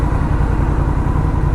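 A vehicle engine with a suspected fuel starvation fault idles steadily after several failed starting attempts, a close, loud, even low rumble with a regular pulsing beat and no voices.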